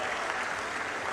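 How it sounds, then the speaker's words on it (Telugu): Audience at a Swachh Andhra – Swarnandhra public meeting in Anakapalli clapping loudly and steadily in approval, a dense wash of applause filling the whole moment. "దీనికి మీరందరూ చేస్తామని గట్టిగా చప్పట్లు కొట్టి హర్షాన్ని ఆమోదాన్ని"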